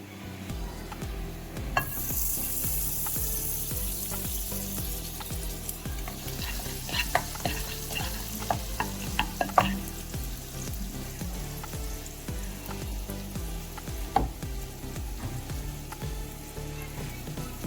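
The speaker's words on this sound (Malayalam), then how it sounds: "അതിന് വേണ്ടിയിട്ട് ഒരു പാൻ അടുപ്പത്ത് വെച്ചിട്ടുണ്ട് അതിലും കുറച്ച് ബട്ടർ ചേർക്കാം" Butter and vegetables sizzle in a hot pan on the stove, with a steady crackling hiss throughout. A spoon scrapes and stirs, adding scattered clinks and taps against the pan.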